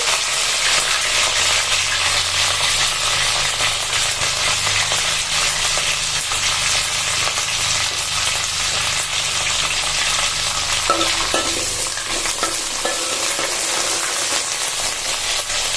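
Curry leaves and onions fry in a pan for a Telugu hilsa fish pulusu, a steady loud sizzle with faint stirring scrapes toward the end, no voices.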